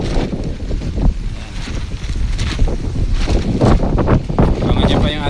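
Strong wind blows at a seaside shore where fishing boats sit idle. It makes a loud, continuous rumbling buffet against the microphone throughout, with small surges and gusts.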